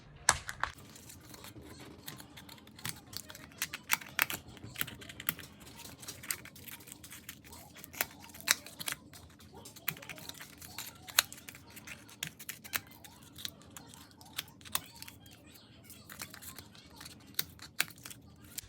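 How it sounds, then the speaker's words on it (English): Small scissors snipping quilling paper close around a paper flower in quick, irregular clicks, quiet and close, with occasional light rustling between cuts. "carefully cut as close as you can right up to the flower part"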